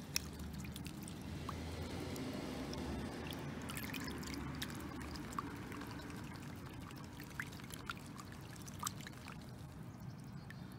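Water being poured over plant roots to rinse them clean, a steady trickling pour that runs continuously and fairly faint with no talking.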